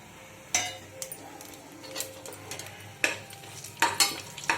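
Whole spices (cinnamon, clove, fennel, cardamom and bay leaf) frying in hot oil for a mushroom biryani, a soft steady sizzle broken by sharp clinks and scrapes of a spoon stirring the pan, close by.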